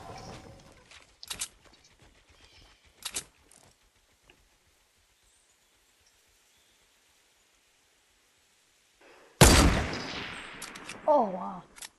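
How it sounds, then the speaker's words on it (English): Gunfire in a Fortnite Blitz squads match: a few sharp, distant shots early on, a long quiet stretch, then a loud burst of shooting and mechanical clatter near the end, with game sound effects trailing off. "They're shooting us off, it's the people over on the"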